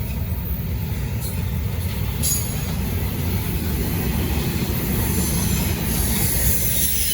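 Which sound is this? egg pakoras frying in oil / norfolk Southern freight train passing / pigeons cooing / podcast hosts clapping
norfolk Southern freight train passing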